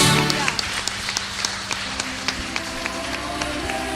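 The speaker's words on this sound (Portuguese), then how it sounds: "Você pode dar uma salva de palmas aí" Church congregation applauding after a closing prayer, a dense steady wash of clapping with sharper individual claps standing out throughout, sustained for the whole stretch.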